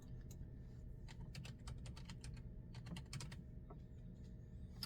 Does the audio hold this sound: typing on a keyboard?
yes